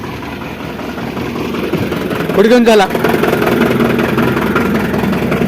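A tractor engine idles steadily and loud nearby, a continuous low rumble with a brief surge partway through, while people talk over it.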